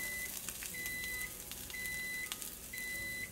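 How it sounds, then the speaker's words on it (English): A kitchen timer beeps for cooked quinoa, repeating in short bursts of several beeps roughly once a second, faint and thin over a quiet room. "That's what that timer was for."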